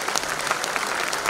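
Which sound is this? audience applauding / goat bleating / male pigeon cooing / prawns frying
audience applauding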